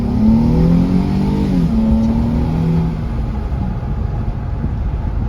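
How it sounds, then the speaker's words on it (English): A 2006 Nissan 350Z with aftermarket exhaust pipes revs nearby, its deep engine note rising and falling before easing into a steadier drone. "I like the exhaust on this. Someone's put some pipes on it."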